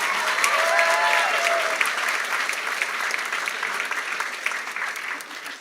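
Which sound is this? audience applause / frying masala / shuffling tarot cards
audience applause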